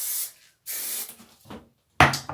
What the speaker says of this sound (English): I'll spray it down.